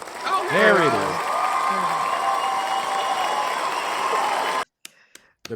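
An applause sound effect plays during a podcast: a continuous wash of clapping and crowd noise, with a few voices briefly rising over the start, then cutting off abruptly near the end, leaving a couple of faint clicks.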